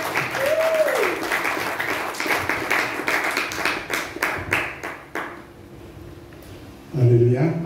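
A church congregation at a consecration service claps to welcome a pastor, dense applause that thins into scattered individual claps and fades, with voices calling out briefly over it at the start and end.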